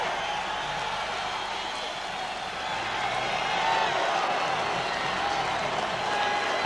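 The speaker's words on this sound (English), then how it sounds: "Should hear a big sound of applause now." Boxing arena crowd during a Michael Nunn versus James Toney fight, a broad wash of applause and cheering that swells midway and holds steady, dense and roomy with no clear voices above it.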